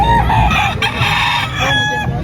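Roosters and other fowl at a busy gamefowl market crow and cluck loudly and close by. One drawn-out crow overlaps with background clucking and the crowd's hubbub.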